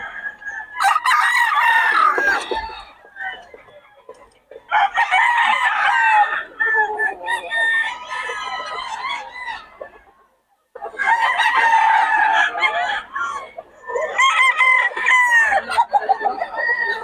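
Roosters crow loudly and chickens cluck at a poultry market, in four long bursts of calls separated by brief pauses, close to the listener.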